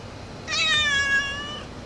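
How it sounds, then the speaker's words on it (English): A domestic cat gives a single drawn-out meow, clear and close, rising then fading over about a second in an otherwise quiet room. "This is my cat."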